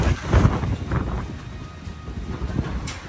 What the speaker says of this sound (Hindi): बहुत ही तेज हवा चल रही है दोस्तों।